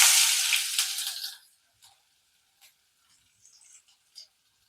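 Sliced onions dropped into hot oil in a pan for chicken khichuri, a loud burst of sizzling frying that dies down after a second or so, followed by faint scattered ticks and crackles.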